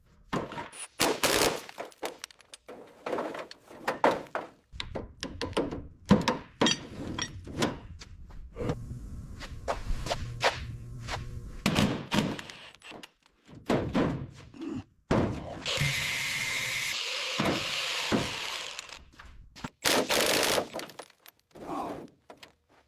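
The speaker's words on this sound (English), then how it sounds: "We had to use the heavy-duty impact wrench to finally break them free." A heavy-duty impact wrench hammers at seized, rusted bolts on an old U.S. Mail truck under restoration, firing in repeated loud bursts separated by pauses and clunks, close up.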